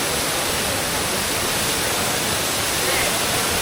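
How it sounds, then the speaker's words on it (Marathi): The Varasgaon waterfall near Pune, swollen in the monsoon rain, gives a constant, loud broadband rush of falling water that fills the whole stretch without pause. "आणि हा असतो धबधबा, त्याला म्हणतात बरसगावचा धबधबा"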